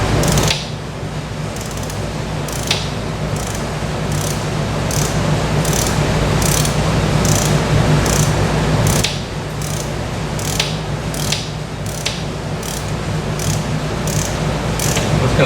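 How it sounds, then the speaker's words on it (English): A socket wrench ratchets on the brake bolts of a 1976 Pontiac Trans Am during a disc brake conversion, giving a series of sharp clicking strokes over a continuous loud mechanical hum close by. "Socket wrench wasn't engaged."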